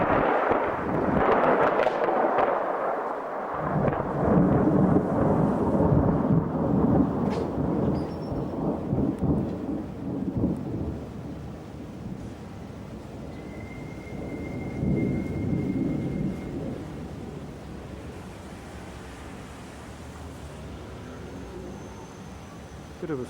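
Violent, rolling claps of thunder from a brewing storm, heard from a bedroom balcony, rumble loudly and continuously for over twenty seconds, with a few heavier surges.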